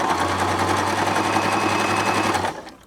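A Baby Lock Zest sewing machine stitches a tiny zigzag in a fast, even mechanical chatter, close and steady for about two and a half seconds before stopping abruptly.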